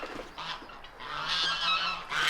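Geese honking on a farm, with ducks and other fowl nearby, a steady chorus of overlapping nasal calls close by that swells louder in the second half.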